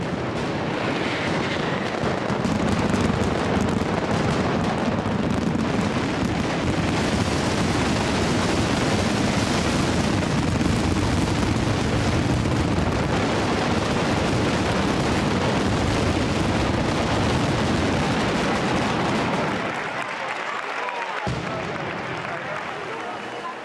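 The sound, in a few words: mass firecracker explosions, mascletà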